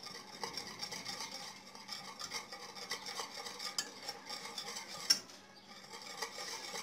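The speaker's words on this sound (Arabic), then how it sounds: "هنزل دلوقتي بالملوخيه الناشفه واقلب" Dried molokhia is stirred into boiling chicken broth with garlic in a pot. A spoon scrapes and clinks in repeated rhythmic strokes over a gentle simmer, with one sharper knock partway through.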